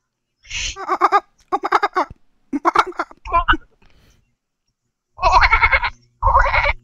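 Bursts of growling, bleating vocal sounds from a person imitating the Star Wars character Chewbacca's roar, in several separate phrases with brief pauses between them.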